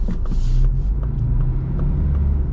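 A 2025 Ford Bronco with a 4-cylinder engine on 37-inch tires accelerates hard, giving a loud, continuous engine drone and road rumble heard from nearby.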